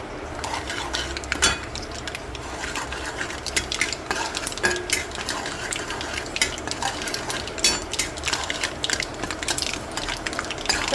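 Curry leaves and dried red chillies fry in a tempering, with a light crackle under frequent spatula scrapes and clinks against the pan.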